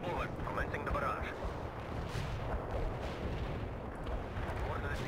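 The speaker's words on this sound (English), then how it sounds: "Commencing the barrage." Artillery barrage in the PC strategy game World in Conflict, a dense continuous roar of booming impacts and rumbling explosions filling the whole stretch, loud and unbroken, with faint radio-style voices beneath.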